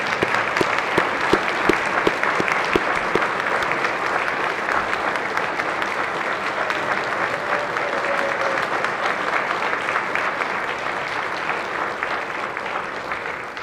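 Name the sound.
applause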